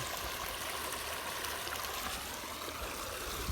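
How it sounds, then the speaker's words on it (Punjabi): Canal water rushes steadily along a full, lower-lying field channel, a continuous close babble and trickle without pauses, heard alone at moderate level. "ਜਾਂਦਾ ਗੋਲੀ ਵਾਂਗੂ ਪਾਣੀ"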